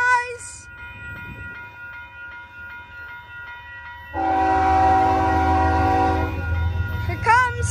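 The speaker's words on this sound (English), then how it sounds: "There comes the train! On track two!" A Union Pacific train near Lincoln Park in Los Angeles approaches on track two with a steady low rumble, then gives a long, loud, multi-tone horn blast at close range that fades off, with a brief horn toot at the end and a voice heard faintly.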